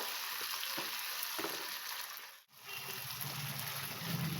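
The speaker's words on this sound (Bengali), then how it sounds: "সেই মশলাটা দিয়ে দেবো যেটা পেস্ট করেছিলাম সেইটা দিয়ে দেবো দিয়ে এটাকে নাড়াবো" Spice paste frying in a pan for a matar nimona, a steady close sizzle with soft scraping stirs, a brief drop in the hiss midway before it resumes with a low bubbling.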